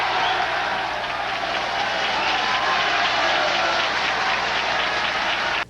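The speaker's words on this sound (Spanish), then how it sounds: "Ante cada declaración leída por Romero, el salón en pleno se ponía de pie entre aplausos y celebraciones" A packed national assembly hall applauding and celebrating as members rise to their feet: dense, steady, loud crowd clapping and cheering that fills the whole stretch without pause, then cuts off abruptly.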